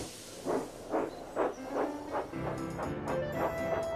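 Thomas the tank engine, a cartoon steam locomotive, chuffs in a steady rhythm of about five puffs, followed by sustained hissing steam and a faint whistle-like tone toward the end, close and moderately loud.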